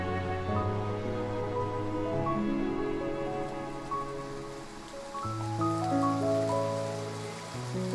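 Rain falling in the video game Love and Deepspace, a soft, continuous patter spread beneath a sustained, louder musical score with no talking.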